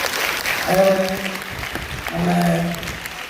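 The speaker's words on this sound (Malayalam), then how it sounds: "നല്ലൊരു ക്ലാപ്പ് നമ്മുടെ മെൻറ്റേഴ്സിനോട് കൊടുക്കാം" An audience claps for the mentors at a job-training gathering, a steady broadband patter running through the clip while a voice speaks over it in two short bursts.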